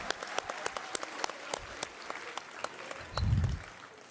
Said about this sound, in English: Can we have a big round of applause for our business technology graduates?